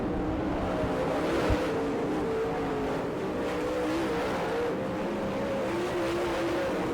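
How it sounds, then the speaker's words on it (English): A late model race car, a Mopar Performance Dodge RT, races at a dirt track in Gibsonton, Florida, its engine giving a steady loud drone with wavering pitch as it holds speed, with no talk. "Francis has found a groove he likes with his new Mopar Performance Dodge RT, car number 15."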